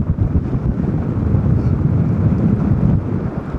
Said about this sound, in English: Blowing about 20 knots this afternoon.